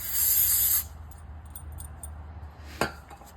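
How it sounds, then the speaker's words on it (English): Brake cleaner sprayed onto brake parts during a Camaro SS brake install: a loud steady aerosol hiss for under a second, then quieter shop ambience with a few small metallic clinks and one sharp knock. "Let's soak these in some brake clean."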